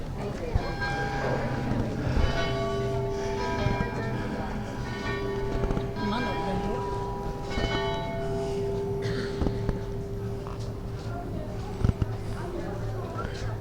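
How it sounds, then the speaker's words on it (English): Old church bells ring out at Hampton Court Palace, their sustained, overlapping tones humming steadily throughout while people talk nearby over them. "The old church bells."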